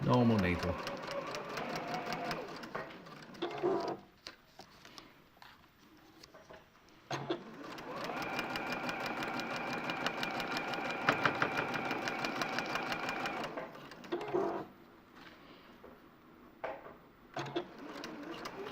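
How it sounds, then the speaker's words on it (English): A sewing machine stitching fabric for a quilt, running in bursts of steady mechanical whirring that stop and restart, close and moderately loud, with people talking in between and over it. "I'm going to sew straight across to make my, my hourglass shape"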